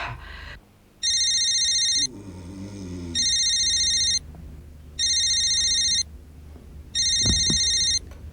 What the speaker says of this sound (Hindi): तनवा को फोन करते हैं